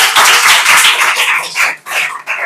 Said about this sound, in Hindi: बिल्कुल सही जवाब, जोरदार ताली बजा दीजिए।